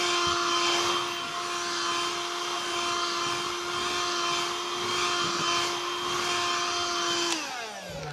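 A Hoover Jovis+ handheld vacuum cleaner runs with a steady, loud motor whine and a constant airflow rush, then winds down near the end with a falling pitch.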